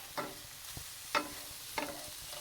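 Mushrooms cook in a frying pan, a soft steady sizzle broken by three brief scraping stirs, close and clear with no talking.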